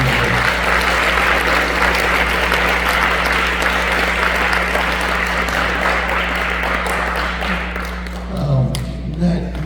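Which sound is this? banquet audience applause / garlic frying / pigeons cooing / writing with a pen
banquet audience applause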